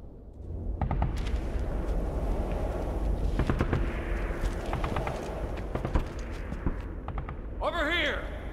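Mortar fire and battle noise in the Inversion video game form a dense, steady rumble punctuated by sharp thuds and cracks, ending with a shouted voice.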